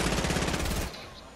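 Rapid automatic gunfire in a Fortnite Battle Royale squad match, a dense burst of repeated shots close and loud for most of a second before cutting off to quieter game ambience.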